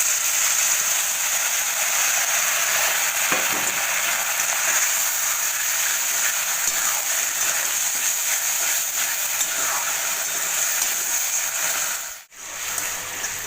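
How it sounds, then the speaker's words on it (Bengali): Bean paste frying in a pan for a Bengali bean chokha dish, giving a steady close hiss and sizzle that holds throughout, broken briefly by a short dip near the end. "এবার আমি এখানে মেখে রাখা শিমটা দিয়ে দিচ্ছি, শিমের পেস্টটা দিয়ে দিলাম।"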